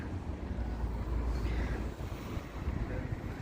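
Wind gusts across Ramsgate harbour with a low, rumbling buffeting on the microphone and a faint wash of water beneath, steady throughout with no speech.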